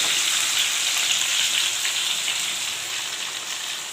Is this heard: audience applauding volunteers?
no